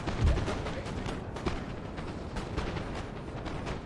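Cannon fire rumbles through a Napoleon: Total War battle, a dense, continuous spread of distant booms and crackling volleys with several sharper reports standing out, no talk heard.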